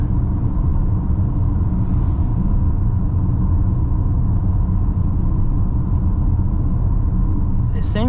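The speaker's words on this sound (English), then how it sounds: "the noise I'm getting is pretty much just tire noise or from the bottom of the chassis" Low, steady road and tire roar inside a 2022 Kia Sorento 2.2D diesel while driving, a continuous dense rumble filling the cabin with little variation; someone talks over it.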